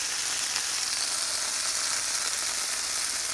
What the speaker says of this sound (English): get some minced garlic, a couple nice spoons of some butter. Start sauteing the pan a little bit